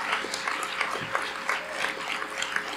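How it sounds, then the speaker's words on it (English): A crowd applauds at a high school senior class day ceremony as three students are called up, a steady patter of clapping with scattered voices mixed in. "So please give a round of applause for Reagan and Chloe and Sierra to come up"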